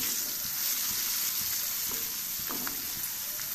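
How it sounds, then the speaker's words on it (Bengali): Potatoes frying in plenty of oil give a steady, even sizzle throughout, with a few soft clinks and stirring taps near the end. "বেশি করে তেল দিয়ে ভাজতে হবে"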